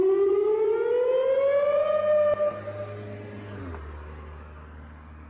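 A loud outdoor tornado siren wails in a rising tone, holds, then winds down and cuts off, leaving faint background rumble.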